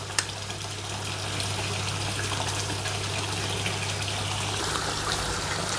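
A pond wave maker pump runs with a steady, continuous rush of moving water and a constant low hum underneath, fairly loud and unbroken throughout.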